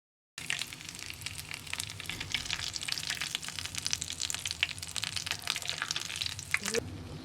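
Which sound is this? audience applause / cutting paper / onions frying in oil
onions frying in oil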